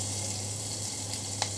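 Tomatoes and green chillies frying in oil for pepper rasam give a steady, close sizzle that holds evenly throughout, with one brief louder crackle near the end.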